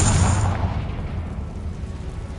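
A Confringo blasting spell in Hogwarts Legacy goes off inside a cave with a loud rushing burst, a bright hiss and a deep rumble that fades over about two seconds. No voices are heard.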